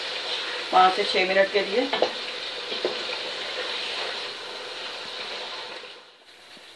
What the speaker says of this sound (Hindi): मैं इसमें थोड़ा सा पानी डाल दूंगी।